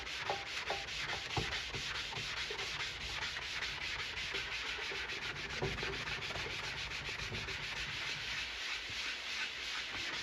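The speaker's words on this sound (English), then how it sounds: "a magic eraser is really nothing more than some really fine sandpaper" Arcade cabinet surface rubbed with a magic eraser, a steady close scrubbing hiss with rhythmic back-and-forth strokes throughout, fairly quiet and without talk.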